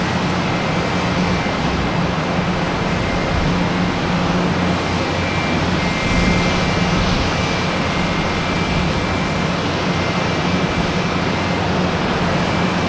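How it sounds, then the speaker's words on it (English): A Spirit Airlines A321neo jet at Boston Logan Airport at night gives off a loud, steady engine roar that fills the whole stretch, heard from a spotting point at some distance, with no voices. "we have an A321neo Spirit Airlines heading to Orlando"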